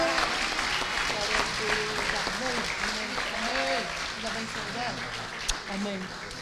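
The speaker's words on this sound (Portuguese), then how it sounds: "Podemos aplaudir de novo?" A church congregation at a Sunday service applauds together, steady clapping carried along under voices and a sung or spoken tone, with one sharp knock near the end.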